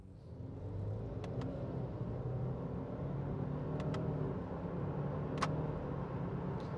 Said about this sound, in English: And what happens if I stick it in, what do they call it again? Sport Sharp.